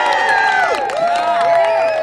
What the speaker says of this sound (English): that'll bring out a cheer